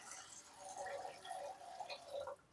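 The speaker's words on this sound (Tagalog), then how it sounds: "lalagyan ko guys ito ng tubig para maluto" Water trickles and splashes into a pot of glutinous rice for cooking, a soft, uneven pouring sound at close range that fades out near the end.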